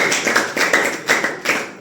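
A crowd at a DXN meeting clapping in unison, loud and close, sharp rhythmic claps repeating roughly four to five times a second for the whole stretch, with no voices.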